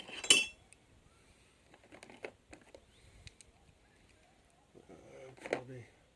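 Metal clinking and tapping of a socket tool being taken out for blade maintenance on a Masport 800 Series mower, with a few light scattered clicks and one louder clatter at each end.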